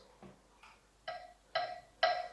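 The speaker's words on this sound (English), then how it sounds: "With the metronome, the chords sound like this." Metronome ticks with keyboard chords from a keys lesson: a few soft clicks, then three evenly spaced sustained chords struck on the beat, close and clear, with no talking.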